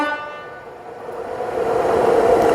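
An Indian passenger train comes in at speed with a sustained horn, its steady tone starting close and loud and its rumble swelling louder toward the end as it passes.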